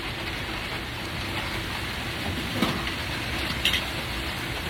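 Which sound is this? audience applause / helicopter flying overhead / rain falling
rain falling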